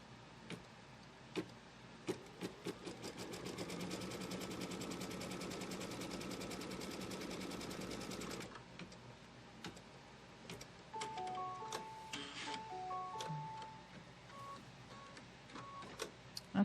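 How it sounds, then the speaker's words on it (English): Embroidery machine stitching a placement line on quilt fabric, a steady fast mechanical whir with rapid ticking stitches for about eight seconds, then slower clicks and beeps as it stops. "now we're going to stitch the placement line for the first piece of fabric"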